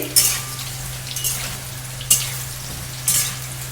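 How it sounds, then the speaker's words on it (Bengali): Pointed gourd (parwal) frying in a generous amount of oil in a pan: steady soft sizzle with a few sharper bursts roughly once a second, over a low constant hum. "এই যে পটলটায় কিন্তু সুন্দর করে আমরা ভেজে নেব"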